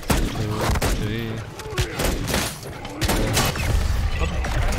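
Pistol fire at a Mangler in MW3 Zombies: a quick run of loud shots mixed with impacts and game noise, with someone talking throughout over the dense combat din.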